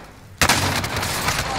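Gunfire in Call of Duty: Warzone erupts abruptly after a short quiet lead-in, then continues as a loud, dense run of shots and rumble for over a second.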